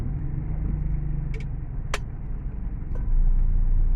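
Road traffic passes on a rainy street in Cabanatuan during a typhoon. A steady low engine rumble and tire noise carry on throughout, with a few brief sharp sounds and a louder vehicle surge near the end.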